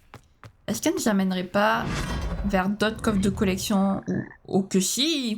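A frog croaks repeatedly in the Hogwarts Legacy video game, its calls mixed under someone talking in French throughout.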